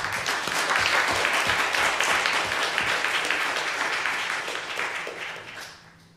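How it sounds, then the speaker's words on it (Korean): A church congregation claps together for one of its members, a full, even burst of applause that holds steady for several seconds and then tapers off toward the end. "박수 한번 하겠습니다."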